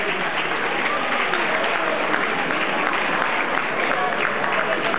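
Dense, steady applause from an audience for the performers at a dance exhibition in Castano Primo, a continuous wash of many hands clapping at close range, evenly loud for the whole stretch.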